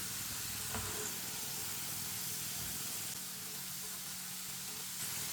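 Potato chips fry in clean oil with a steady, soft sizzling hiss that carries evenly from start to finish, fairly quiet and close, with no talking.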